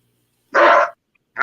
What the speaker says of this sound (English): I don't like dog noises on the video.